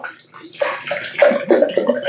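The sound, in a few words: water poured onto mango for juice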